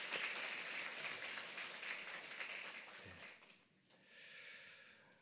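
A church congregation claps to encourage members back after surgery, a faint smattering of applause that fades out partway through.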